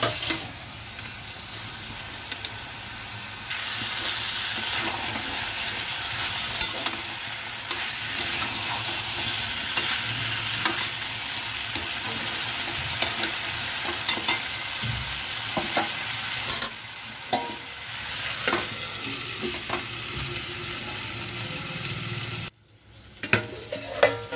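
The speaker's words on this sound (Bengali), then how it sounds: "দিয়ে এবার তেল ছাড়া পর্যন্ত আমাকে কষাতে হবে" Vegetables frying in spice masala and stirred in a pot, giving a steady close sizzle with scraping and clinking of a spoon against the pan throughout, briefly cutting out near the end.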